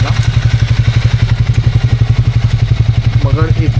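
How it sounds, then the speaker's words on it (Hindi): Triumph Speed T4 engine idling close by with a steady rhythmic thumping and a light mechanical clatter from the engine's timing area; a voice speaks briefly near the end. "ये इंजन की तरफ से एक साउंड है"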